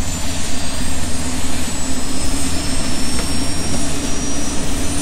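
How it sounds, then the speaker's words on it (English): An airplane's engines roar during takeoff, a loud, steady jet rush with a pulsing low rumble that fills the whole stretch without a break. "We got ourselves a working airplane."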